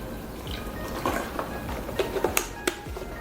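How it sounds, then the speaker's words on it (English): Almond milk is poured into a blender jar in a kitchen, a quiet liquid trickle and splash punctuated by a few light clinks and taps, faint and close with no speech. "I'm gonna add in about a cup of almond milk, well, about a cup and a half of almond milk."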